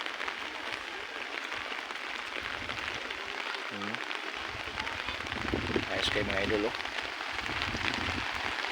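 Steady rain patters in a constant wash over a scout jamboree camp in Talisayan, Misamis Oriental, while someone talks over it.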